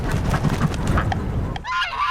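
Geese, including migratory geese, honk repeatedly nearby at Sunset Park, harsh overlapping calls over outdoor background noise, with a clearer honking burst toward the end.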